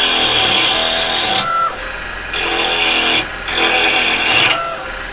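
A bargain wood lathe takes very heavy cuts, the tool rasping loudly against the spinning wood in three long bursts separated by brief quiet pauses, with no talk.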